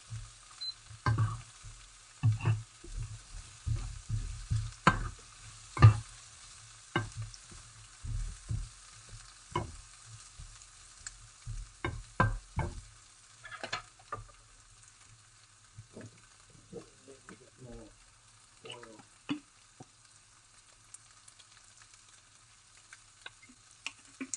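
Chicken with pepper frying in a pan, a steady close sizzle with irregular ticks and clinks as it is stirred, fading softer toward the end, no talking.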